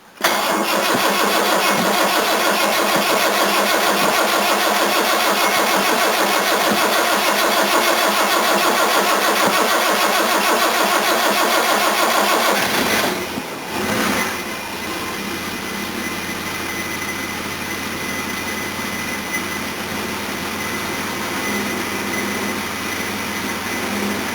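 A Jaguar XJ6 engine being given throttle: a loud, sustained, roaring rev held close for about thirteen seconds, then dropping quickly to a quieter, steady idle that runs to the end.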